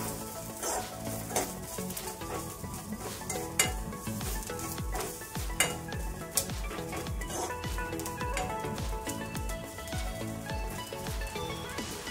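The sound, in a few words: ground onion and coconut paste roasting and stirred in pan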